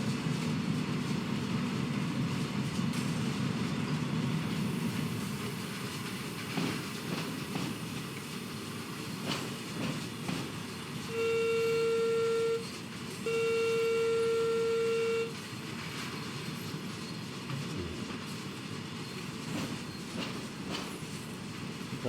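Wagons roll and clatter in Train Sim World 6 while shunting around Carlisle, a steady low rumble with rhythmic clicks, and two long sustained whistle-like tones sounding midway before the rumble carries on.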